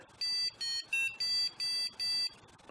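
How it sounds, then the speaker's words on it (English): A colloidal silver generator switched to fine silver mode gives a clear series of six short, evenly spaced electronic beeps, each a steady high tone, sounding alone with no voices. "3 extra beeps, let us know that we are on fine silver mode."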